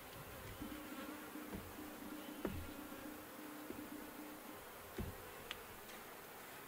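Honey bees hum softly and continuously inside an open hive, a low steady drone with a few light knocks and clicks from handling the frames.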